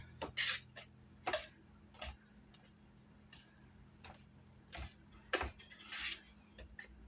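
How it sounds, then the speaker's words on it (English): Thick cake batter stirred by hand in a bowl for a Snickers cake, a quiet close series of irregular clicks and taps of the utensil against the bowl, with soft scraping between them. "Got to get in there and stir, stir, stir."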